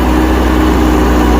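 A tractor engine labours hard on a steep climb, a loud, continuous low drone close by with no break.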